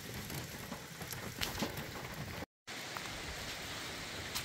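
Rain falls at a forest campsite beside a creek as a faint, steady patter and hiss, broken by a brief moment of silence partway through.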